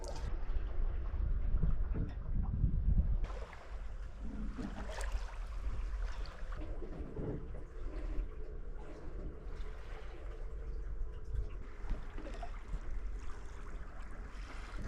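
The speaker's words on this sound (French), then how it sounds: "une petite brise nous permet de faire de la petite voile paisible" A light evening breeze carries across a sailboat cruising toward the Mingan Islands on a July evening, a faint, steady wash of wind and water with soft creaks and no voices.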